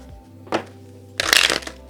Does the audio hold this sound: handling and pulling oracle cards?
yes